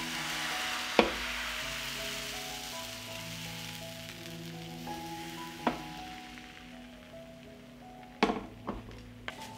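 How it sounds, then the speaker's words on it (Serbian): A pancake batter sizzles in a lightly greased frying pan, a soft continuous crackle. A few sharp clinks of utensils land at scattered moments over a faint tonal background. "Prvo ću podmazati malo tiganj i na isti način pečem dalje palačinke"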